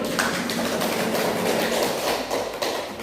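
A classroom group claps for a presentation during a teaching practice session, a dense, continuous patter of many hands that carries steadily for three seconds with no talk.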